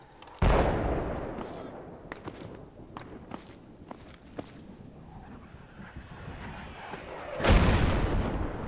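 Mortar fire in the Project Reality military shooter: two heavy booming impacts, one early and one near the end, with scattered smaller thuds and crackles of battlefield noise between them.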